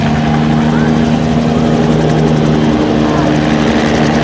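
A Bell 47 helicopter at a rotorcraft festival gathering, its steady low rotor thump and engine drone loud and continuous throughout.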